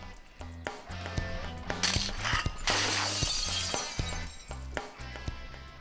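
Glasses stacked for a balancing stunt crash and shatter in a loud, sustained spill of breaking glass and tinkling shards, with clinks before and after over a steady musical background.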